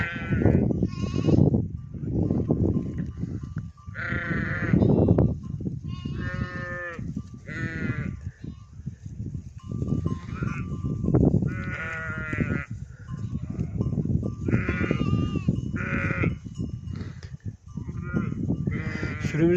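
Several sheep, some old, bleat repeatedly nearby while grazing in a wheat field, overlapping calls rising and falling in a noisy flock chorus that continues throughout.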